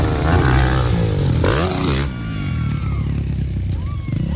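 A 250cc motorcycle revs hard on a dirt racetrack during triple-jump riding, a loud engine snarl with rising and falling pitch, then a lower throbbing idle as a crowd murmurs nearby.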